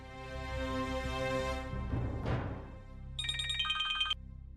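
A phone ringing on a call placed on speaker: a short burst of electronic ring tones sounds clearly after some background clatter and music, fairly near and moderately loud.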